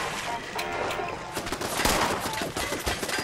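Turrets shooting in Fallout 76, a dense, continuous rattle of rapid shots that runs steadily and fairly loud throughout, with no clear pauses.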